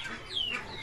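A hen, held clamped under the arm during treatment, lets out quick faint clucks and squawks in under a second, close to the microphone.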